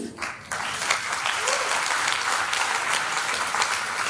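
Audience applause for a speaker at an inter-collegiate quiz and debate competition, a dense steady wash of clapping that swells in after a brief opening sound and holds loud and even throughout.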